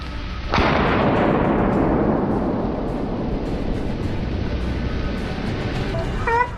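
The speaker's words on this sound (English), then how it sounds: "A series of shots rang out, aimed directly at the source of the smell." A gunshot aimed at wild boar on a California farm, one sharp loud blast followed by a long rolling echo that slowly fades, with no talk.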